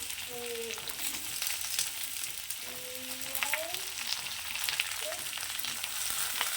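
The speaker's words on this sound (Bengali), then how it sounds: "বরবটিগুলো একটু হালকা ভেজে নেবো আলু আর বরবটিটা একটু ভেজে নেবো" Yardlong beans and potatoes frying in a pan, a steady soft sizzle running throughout with faint stirring scrapes and brief tonal sounds over it.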